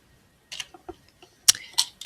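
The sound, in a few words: Delete key pressed on a computer keyboard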